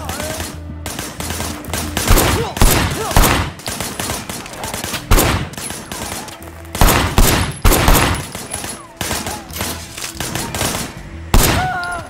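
Repeated bursts of gunfire from a shooter in the Sleeping Dogs: Definitive Edition video game, loud, close and sharp, with rapid volleys and short gaps between them across the stretch.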